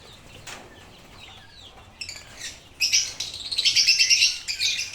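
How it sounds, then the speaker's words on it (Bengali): Lovebirds and other pet birds chirp and tweet in an aviary room. The calls are faint at first, then a dense, loud burst of overlapping chatter starts after about three seconds and continues to the end. "এই কুট্টুসদের ছেড়ে দিচ্ছে ওপরের ঘরটায় যেখানে লাভবার্ডগুলো ইতিমধ্যে ছিল"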